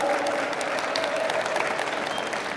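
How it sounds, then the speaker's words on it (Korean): A church congregation applauds together in a dense, continuous burst of clapping that fills the room and tapers slightly toward the end, with no talk. "뜨겁게 서로 박수 한번 쳐주겠습니다"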